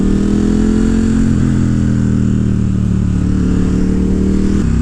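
A 2018 KTM 1290 Super Duke R rumbles steadily under way, a loud, close, constant engine drone with a deep layered exhaust tone and no talking.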